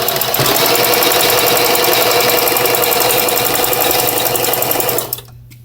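A sewing machine runs continuously, stitching blue ribbon onto fringe, a loud steady mechanical whir that holds for about five seconds before stopping abruptly, followed by near silence.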